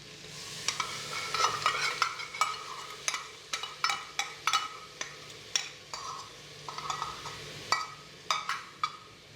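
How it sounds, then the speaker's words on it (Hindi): Yogurt masala being stirred into sizzling meat and potatoes in a hot pan for a Pakistani aloo mutton salan, with repeated sharp scraping strokes of the spoon over a steady frying hiss, close and without talk. "फिर अब हम इसके अंदर ये वाला दही वाला मसाला जो है ये डालेंगे"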